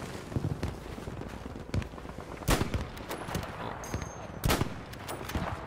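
Sniper rifle shots ring out in Battlefield 5 on the Fjell 652 map, a handful of sharp, loud cracks spaced irregularly across a busy background of distant battle noise and scattered gunfire.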